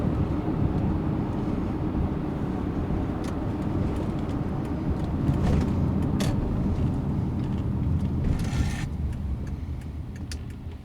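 A 2013 Toyota Highlander with a 3.5 V6 running on a Landi Renzo LPG system drives along, giving a steady, loud broadband engine and road roar that holds even throughout, with a few faint clicks and a brief hiss near the end.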